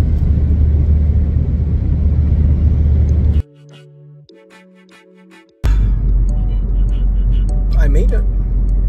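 Steady low car engine and road rumble fill the cabin while driving on the way into Edinburgh, briefly dropping away mid-stretch before returning loud and close, with no one speaking.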